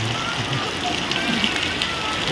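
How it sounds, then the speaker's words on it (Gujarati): Steady rain hisses on surfaces in a dense, continuous wash in a village, fairly close and even throughout. "એટલું વરસાદ આવ્યો તો ધીમો થઈ ગયો"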